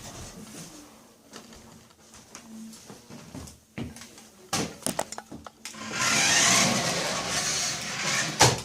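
A cheap toy RC car with a speed booster drives around. Its small electric motor whirs in short, intermittent bursts, then grows into a louder, sustained whine near the end.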